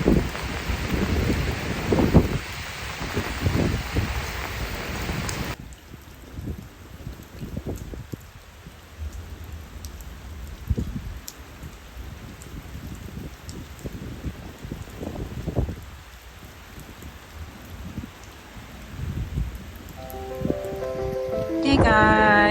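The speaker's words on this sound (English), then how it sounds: "the rain is here" Steady rain falls on a garden as a continuous soft hiss that carries on throughout, with a few brief louder sounds near the end.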